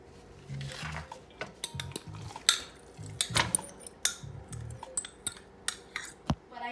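One cup of mashed butternut squash goes into a flatbread dough mixture, with close, irregular clinks and scrapes of a utensil against a bowl and soft thuds in between.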